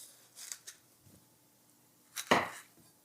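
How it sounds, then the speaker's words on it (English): A knife cuts through watermelon flesh with the rind removed, giving a few soft chops early on and one louder, crisp cut near the end, with quiet gaps in between. "We are going to make this as easy to chop as possible."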